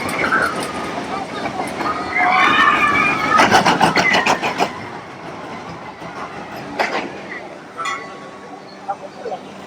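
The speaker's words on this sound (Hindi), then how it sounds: "छोटा सा रोलर कोस्टर है, थोड़ा ऊपर जाता है और फिर यहाँ से उतरते" A small roller coaster at Tokyo Disneyland runs past as a rumbling, clattering ride with a burst of rapid clacking in the middle, heard near and fairly loud over crowd noise and a voice talking.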